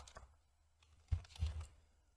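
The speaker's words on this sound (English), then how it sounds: "Go to your search bar, type in PowerShell." Typing on a computer keyboard: a few faint, soft key clicks in a quiet room, with a couple of slightly firmer presses near the end.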